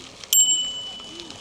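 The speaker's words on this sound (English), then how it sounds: "Good old-fashioned bell just comes in handy at times." An old-fashioned bicycle bell rings once, sharp and clear, during a ride along a former railway line, its bright metallic tone lingering briefly over faint background ambience.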